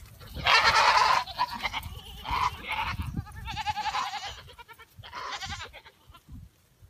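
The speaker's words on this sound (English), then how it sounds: "It's a goat." Several loud, wavering goat bleats, each lasting about a second, come one after another with short pauses between them, close and clear.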